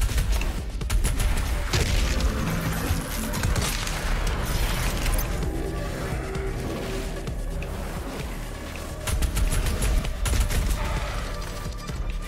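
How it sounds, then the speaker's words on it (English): Super shotgun blasts in Doom Eternal during The Ancient Gods Part One, repeated heavy booming shots amid chaotic mechanical combat noise, loud and dense throughout the battle. "super shotgun"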